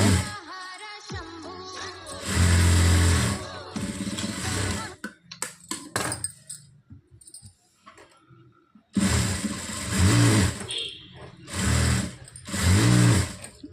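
A sewing machine stitches a blouse side seam in several short bursts, loud whirring runs separated by pauses and small clicks of the fabric being adjusted.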